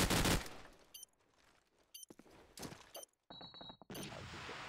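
Gunfire erupts in a shooter video game match as a loud burst of rapid shots, followed by several sharp single reports and short volleys separated by quiet gaps.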